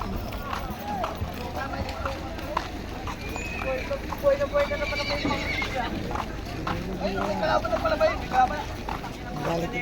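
Horses in a fighting contest neigh and whinny while hooves clip-clop on the ground, heard at moderate distance under constant crowd chatter and a commentator's voice.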